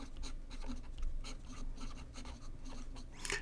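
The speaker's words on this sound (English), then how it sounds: "I hope you can hear this slight scratchy sound, which I think is very typical of Sailor pens" Sailor King of Pens fountain pen nib scratching across smooth Rhodia paper, a steady close, dry scratchy texture with short strokes and pauses, fairly quiet throughout.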